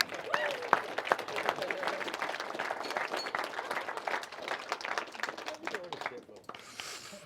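Wedding guests applaud during a best man's speech, dense steady clapping filling the room for several seconds before tapering off near the end.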